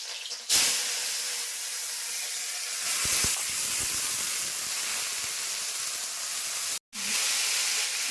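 Bitter gourd and onion sizzle and hiss steadily in a hot pan, a continuous bright frying noise that briefly drops out near the end, with no talking.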